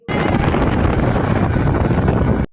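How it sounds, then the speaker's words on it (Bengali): Strong wind buffeting the microphone while riding fast along a highway, a loud continuous roaring rush that starts and stops abruptly, with no voices. "হাই রোডেতে মুখে এত হাওয়া লাগছিল"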